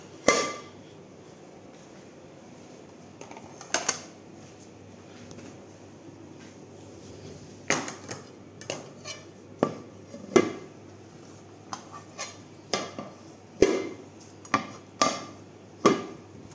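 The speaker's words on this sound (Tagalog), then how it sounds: "ilagay ko na ang mga plato" Plates, spoons and forks being set down one by one on a table while preparing for a family gathering, giving sharp, separate clinks and knocks with short pauses between them, close and fairly loud.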